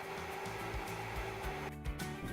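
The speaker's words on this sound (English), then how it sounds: "Use a shop vacuum to clean inside the exhaust area and the fins of the blower." A shop vacuum drones steadily and loudly while cleaning the exhaust area and sharp blower fins of a Quadra-Fire Trekker pellet stove insert, with a brief dip in the rushing airflow partway through.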